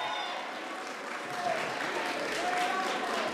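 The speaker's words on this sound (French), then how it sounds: "Je vous demande d'applaudir, s'il vous plaît" Audience applause at a French school eloquence contest semi-final, a steady, even patter of many hands clapping at moderate loudness throughout.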